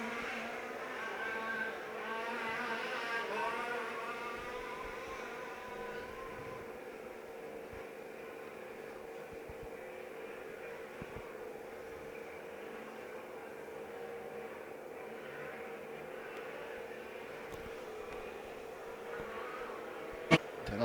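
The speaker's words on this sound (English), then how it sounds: "Sound of an engine ticking over behind you" A large-scale off-road RC car engine ticks over steadily behind a porta cabin at a European championship race meeting, a continuous mid-distance drone with a faint rattle and a sharp knock at the very end.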